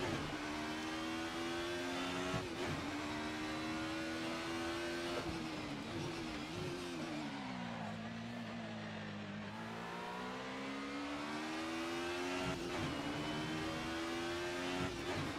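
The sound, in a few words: 90s DTM race car engine accelerating, sim racing video game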